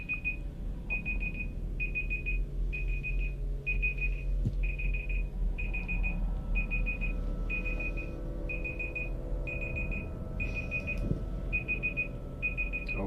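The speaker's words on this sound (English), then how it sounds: "I had to get rid of that beeping" An electronic alarm in the VR game Project Nightlight beeps in regular short pulses about once a second, steady and insistent over a low ambient hum.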